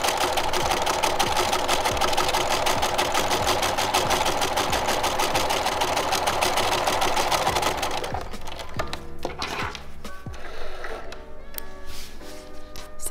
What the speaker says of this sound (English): get started stitching and just concentrate to sew straight right near the edge